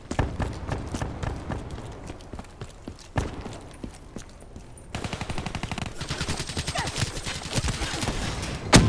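Repeated gunfire in a first-person shooter match, with shotgun blasts among rapid bursts and scattered shots, close and loud, turning into a dense, continuous barrage in the second half.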